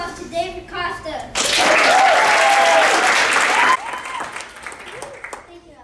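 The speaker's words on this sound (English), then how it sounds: "Please give a round of applause to David Costa." Applause for speaker David Costa at a guild induction ceremony bursts out loud and dense from a crowd of hands, lasting a couple of seconds before cutting back to softer clapping, with children's voices around it.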